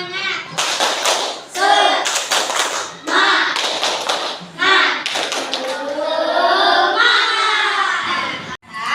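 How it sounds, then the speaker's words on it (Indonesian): A group performs an Indonesian 'tepuk semangat' spirit clap in quick rhythmic bursts, pausing between patterns, with voices chanting along loudly and close. "Kita melakukan tepuk semangat."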